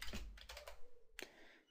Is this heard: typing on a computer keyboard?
yes